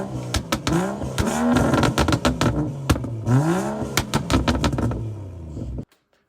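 Close revving from a BMW 335i with the N55 engine and a Flowmaster resonator exhaust, stationary, with several sharp throttle blips rising and falling in pitch before cutting off abruptly.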